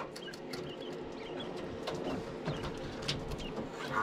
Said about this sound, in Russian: они какие-то там чирик-чирик там издают потихонечку